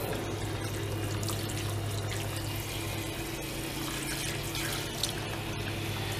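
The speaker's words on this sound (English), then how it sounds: "And now I'm gonna get my hot water. And I'm just gonna rinse it out." Hot water runs steadily from a kitchen tap into a sink being rinsed, a continuous, fairly quiet rushing splash with a low hum beneath, alone without voices.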